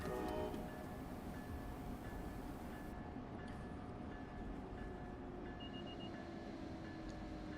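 A New Jersey Transit or Amtrak train runs on the New York to Trenton line in Train Sim World 3 with a little brake applied. A steady, close rumble of wheels carries thin brake tones and squeals throughout, with no talk.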